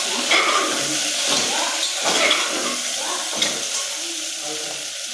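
Ginger frying in a pan for vegetarian khichuri, a soft crackling sizzle with occasional scraping stirs, close by, under faint background noise.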